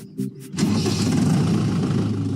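A tractor engine at an agricultural college cranks briefly with a starter whir, then catches and settles into a loud, close, rumbling idle.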